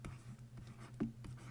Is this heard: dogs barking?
no